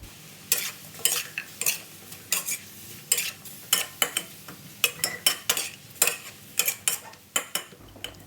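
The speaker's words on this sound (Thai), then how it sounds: "ผัดให้เข้ากันสักเล็กน้อยนะคะ แล้วก็ใส่แครอทตามลงไปได้เลยค่ะ" Seasoned vegetables with carrot are stir-fried in a pan for Thai glass-noodle stir-fry. A spatula scrapes and taps close up in a brisk, steady rhythm of about two strokes per second, over a faint sizzle with no talking.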